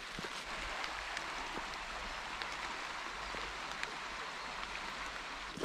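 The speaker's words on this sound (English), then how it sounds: "Getting hammered by the rain right now." Heavy rain pours steadily on a walk beside the Blackwater near Loch Venachar in Scotland, a dense, continuous hiss of drops striking surfaces close by, with no pauses or talk.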